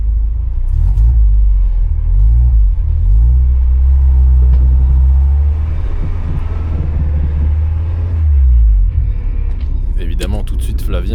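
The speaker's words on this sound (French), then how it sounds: "regardez comme la marche arrière passe bien maintenant" Peugeot 205 RC engine rumbling loudly and steadily as the car reverses, its low drone swelling and fading, with voices talking over it.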